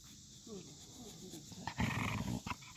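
An older dog growls in short low bursts while roughhousing with a younger dog and a poodle, the rumbles close and rising louder near the end, with a person talking over the play.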